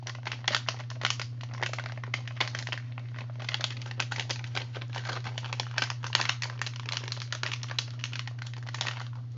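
A clear sticker sheet for a pocket bookmark is peeled apart between its layers, giving soft crinkling and crackling close up over a steady low electrical hum, with no talk.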